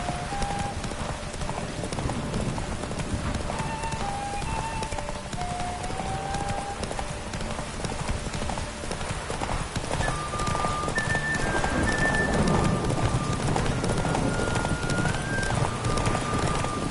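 Roach the horse's hooves clip-clop steadily in The Witcher 3, a continuous close trotting rhythm that runs throughout alongside a brief whinny and a bed of ambient game music.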